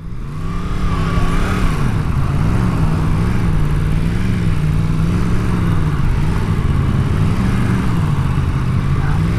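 A Yamaha FZ motorcycle, an FZ-07 or FZ-10, being ridden, its engine a steady, close droning hum that rises and falls gently with the throttle under constant wind rush.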